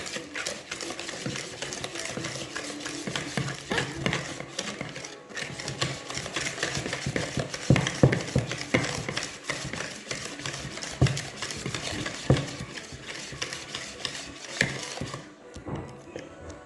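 Steady clattering and scraping of a utensil stirring an apple mixture in a bowl, a busy rapid rhythm of close taps and scrapes that runs throughout with little talk.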